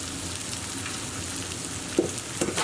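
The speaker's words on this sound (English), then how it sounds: "What I'm going to do now is add in 4 cups of cooked rice." Cooked Persian rice stirred into tomato paste in a pan, giving a soft continuous sizzle and rustle, with a couple of louder scrapes and knocks of the spoon near the end.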